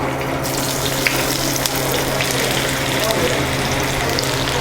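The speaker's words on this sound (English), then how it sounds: "It's sizzling. I'm gonna throw the potatoes in." Steady, loud sizzling of potatoes frying in a hot, small pan, a continuous crackling hiss with occasional small pops throughout.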